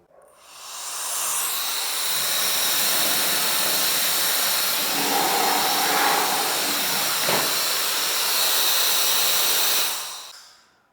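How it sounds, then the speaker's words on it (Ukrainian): A small cordless hair dryer's motor whirs with a steady, airy hiss of blowing air, starting abruptly, holding constant for about ten seconds, then cutting off. "покажу, якої потужності цей маленький фен"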